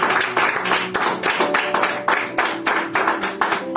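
Worshippers in a church service clap together in a strong, even rhythm, with loud bursts of hand-claps repeating steadily and close by, over faint background music.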